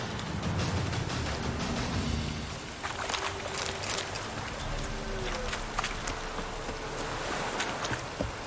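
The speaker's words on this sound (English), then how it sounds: "This downpour's a bastard, it is." Heavy rain pours down in a dense, hissing wash with scattered sharper drops spattering on surfaces, steady and close, no voices, in the video game The Witcher 3: Wild Hunt.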